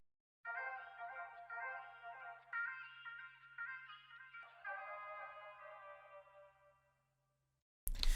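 Vocal sample run through a Doubler chorus effect with its voices pitched down an octave, giving a deeper, thickened tone for an R&B beat; a single sustained phrase of several seconds, then silence and a brief loud burst at the end.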